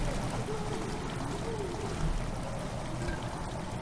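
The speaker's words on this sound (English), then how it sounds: "Water has slowly begun to fill the chamber." Water slowly fills a chamber in the video game Amnesia: The Dark Descent, a continuous rushing, pouring wash that holds steady and fairly loud throughout, with a faint low rumble beneath.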